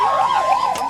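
An ambulance siren wails at an emergency call-out for a collapsed cardiac-arrest patient, its loud, close tone sweeping up and down in a quick repeating cycle, with no voices over it.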